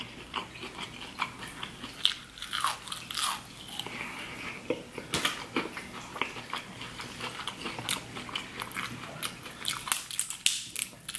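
Snow crab legs from a seafood boil are bitten and crunched up close, with repeated sharp cracking bites and wet chewing at a quiet level, no talk.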